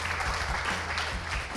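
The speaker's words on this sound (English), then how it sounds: "Let's give them another round of applause." Audience applause at a Kenyan high school event, a steady wash of clapping that fills the whole moment at moderate volume with a low background hum underneath.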